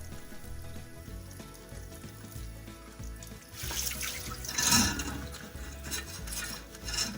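Running water from a tap rinses parts of a kombucha jar, a steady broadband splash that swells louder midway with clinks of handling, close and without speech.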